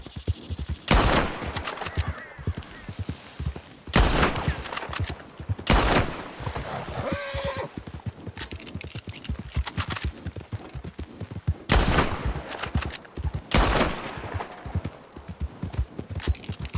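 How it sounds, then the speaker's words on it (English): Repeated volleys of gunfire in a Red Dead roleplay game, sharp loud shots fired in clustered bursts alongside a faint clip-clop of horse hooves, with no talk. "So close, all these shots."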